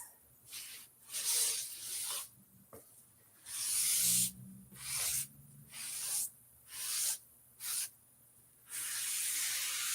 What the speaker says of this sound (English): wipe off any of that excess wax